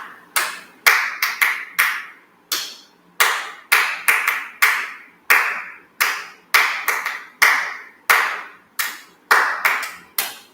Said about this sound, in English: let's clap the rhythm